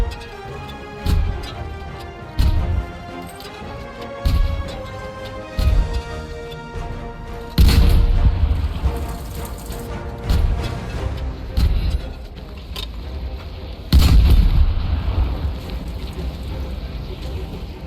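Repeated rocket explosions in Battlefield 5, heavy booming blasts landing every couple of seconds over a musical game soundtrack, some louder and fuller than others, with no voice over them.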